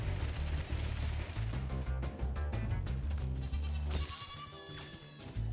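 A sheep bleats in Spyro the Dragon Reignited, layered over busy game music and effects, with brief wavering cries standing out near the end of the mix.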